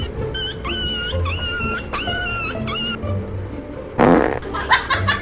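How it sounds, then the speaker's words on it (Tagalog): High whiny yips and whimpers come in short bursts, then a loud, rough fart blasts out, followed by a couple of smaller sputtering puffs. "Ano ba yun? Umutot ka!"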